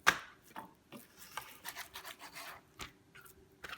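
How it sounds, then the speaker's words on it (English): A knife cuts seitan into small pieces on a board, with a sharp initial chop followed by a series of quieter soft cuts and scrapes at an uneven pace, close up. "now I'm cutting this one for small pieces"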